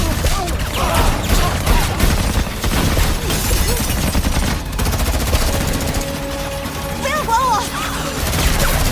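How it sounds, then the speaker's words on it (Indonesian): Dense gunfire crackles through a film shootout as a gang storms a building, with rapid automatic bursts and booms overlapping continuously, mixed with voices and chaotic action noise. "kelompok Boyka menyerbu tempat itu dengan maksud untuk membunuh Susan dan baku tembak pun tak terelakkan lagi"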